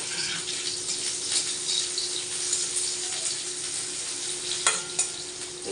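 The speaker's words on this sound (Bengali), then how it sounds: "এগুলো ভাজা ভাজা করে নিচ্ছি" Chopped onions and three green chilies fry in a pan while being stirred, a steady sizzle broken by scraping strokes of a spatula and a few louder clanks near the end, with no talking.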